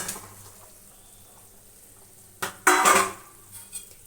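Fish pieces stirred into boiling curry: a quiet low bubbling for a few seconds, then a sudden loud burst of utensil scraping and clanking against the pot that fades after a moment.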